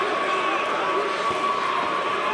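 Crowd noise from a packed San Jose arena at a Bellator 183 heavyweight MMA fight, a steady roar of cheering spread across the clip with no single peak.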